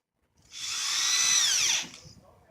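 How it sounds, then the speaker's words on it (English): A power drill drives a screw into a wooden fence board. There is one close, loud whir lasting just over a second that rises, holds, then drops in pitch as it winds down, with no talking. "Installing our 6 screws."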